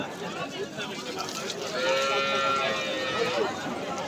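A calf at a village cattle market moos once in a drawn-out, wavering call rising midway, heard close over a busy crowd murmur with people talking.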